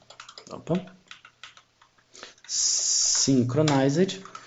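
Typing on a computer keyboard while writing Java code, a burst of quick soft clicks in the middle, with someone speaking before and after it.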